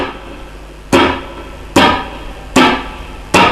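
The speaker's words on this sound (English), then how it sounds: "Okay, so that's the chop, that's how it works." Four sharp percussive guitar chop strokes with the strings palm-muted, each a dry, close thwack followed by a short decay, spaced evenly under a second apart.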